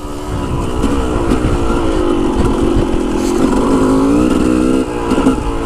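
A motorcycle engine fitted with a Lectron carburetor revs loudly and close by, a continuous raspy roar rising in pitch before briefly dropping off near the end.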